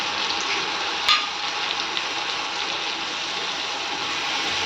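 Cumin, coriander and a spice masala sizzle and fry steadily in a pan, a dense close hiss with a brief clink of a utensil early on and no talking.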